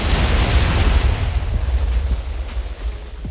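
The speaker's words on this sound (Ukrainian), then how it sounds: "Ставимо і підриваємо. Зараз, звичайно, буде багато вибухів." Rapid chain of booming blasts from mini nuclear bombs detonating in Minecraft, a dense continuous roar of overlapping explosions that stays loud throughout with no talking.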